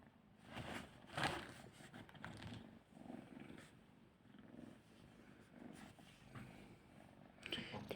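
A white cat purring softly in a rhythmic, close-up rumble, with faint room noise and occasional soft rustles.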